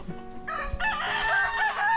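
A rooster crows loudly nearby on a farm with many chickens, a drawn-out call rising over softer clucking from the other chickens.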